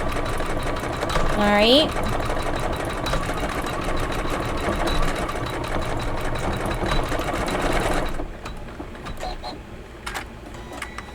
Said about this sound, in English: This is number 8 of the embroidery file. And it's stitching some of the star details.